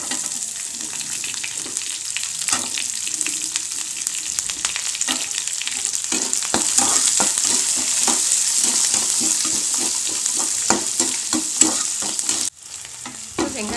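Moong dal and onion sautéing in a pan, a continuous loud sizzle broken by frequent spatula scrapes and stirring taps, growing busier midway, with a sudden drop near the end.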